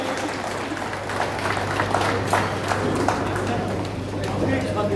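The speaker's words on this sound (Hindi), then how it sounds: "आदरणीय मुख्य अतिथि एवं सब अतिथि से पुनः विनती जोरदार ताली प्लीज" An audience applauds the guests at a lamp-lighting inauguration ceremony. The steady, dense clapping runs throughout, mixed with crowd voices and talk.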